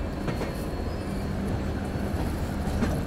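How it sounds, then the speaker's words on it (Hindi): A train locomotive waits outside a large, crowded railway junction station, giving off a steady, continuous low rumble that holds at an even level throughout, with no voices. "हो ना हो ये हमारी ट्रेन का ही लोकोमोटिव है, बाहर इंतजार कर रहा है"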